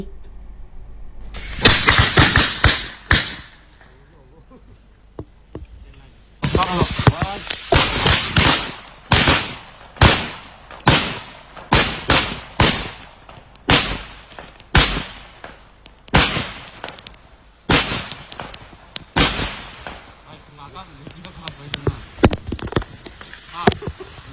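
Ceremonial gun salute: a long series of loud, sharp gunfire reports, around fifteen rounds fired in a ragged rhythm roughly a second or two apart, each cracking out over a quiet outdoor background.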